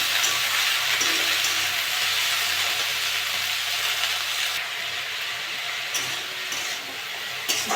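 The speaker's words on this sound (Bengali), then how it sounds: "এবার আলু আর শাকগুলো দিয়ে দেবো। ভালো করে ভেজে নেবো।" Potatoes and kulekhara greens fry in a pan with lightly fried onion, making a loud, continuous close sizzle that eases slightly toward the end.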